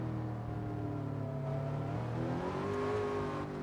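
Supercharged Mazda Atenza in a Gr.3 racing video game: a steady, sustained engine drone with a whining supercharger tone, pitch climbing gradually as it accelerates, heard up close and alone.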